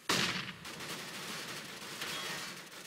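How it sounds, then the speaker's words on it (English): A flashbang grenade goes off with a sharp, loud burst, followed by a sustained rattle of gunfire with a second surge partway through, in a competitive CS:GO match on the Cache map. "Flashbang."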